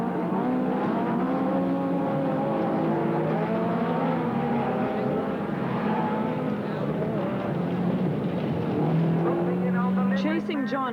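A Porsche race car at the Mondello Park circuit accelerates hard, its engine roaring loudly and steadily in pitch, with a voice talking over it throughout.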